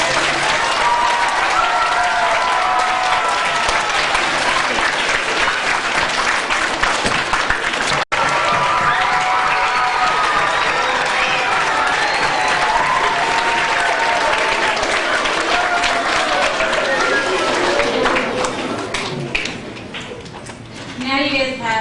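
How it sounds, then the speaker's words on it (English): Sustained loud applause and cheering from a school crowd after a student council candidate running for class president is introduced, filling the whole stretch and thinning slightly near the end. "And one more round of applause for her."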